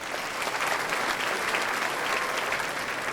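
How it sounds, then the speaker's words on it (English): A symposium audience gives a steady, dense round of applause for Michael Mayette, many hands clapping together evenly for a few seconds. "Let's give Michael a round of applause"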